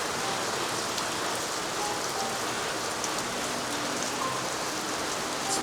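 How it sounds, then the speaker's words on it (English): Heavy monsoon-season rain pouring down outdoors, a dense, even, close hiss of drops hitting the ground that holds steady the whole time with no talk. "It's raining pretty good"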